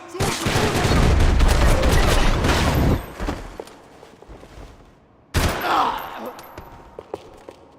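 Gunfire in the video game Max Payne 3: a loud, dense volley of rapid shots for about three seconds, then scattered single bangs, one sharp burst and a few more shots fading out, with voices shouting over the action.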